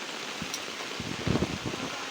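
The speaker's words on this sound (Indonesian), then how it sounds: "Apalagi saat ini sedang turun hujan" Rain falling at a campsite in Bogor, heard as a faint, steady hiss with a few soft, irregular low thumps from drops striking nearby, quiet and without voices.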